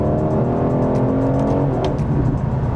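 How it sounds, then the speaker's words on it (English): An Aston Martin DB11 V8 engine revs steadily at close range, a deep sustained roar that swells slightly and then settles, with no voices over it. "It doesn't sound as it doesn't have as much of a low-end burble as it does in the AMG cars."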